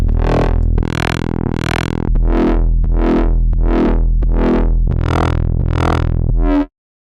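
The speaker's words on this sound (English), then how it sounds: "this one is just great for heavily making everything sound really distorted." A synth patch in Vital runs through its built-in wavetable distortion, producing a loud series of about ten harsh, buzzy, distorted notes in a rhythmic sequence that cuts off abruptly.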